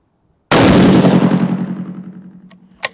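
A single loud, close rifle shot of factory ammunition fired through a new Outlier barrel cracks sharply and rolls into a long decaying boom, followed by a brief faint click and a sharp metallic knock.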